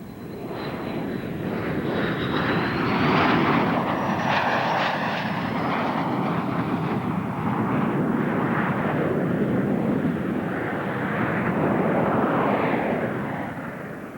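F-16 fighter jet flying at the 1992 Rose Festival airshow, a loud sustained roaring engine rush that swells and holds throughout, with a high whine early on.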